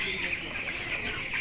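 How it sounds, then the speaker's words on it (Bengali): A flock of underweight 22-day-old chickens clucks and peeps in a steady, busy chatter, fairly close and continuous over a low background hum. "22 দিনের মুরগি, দেখেন অবস্থা"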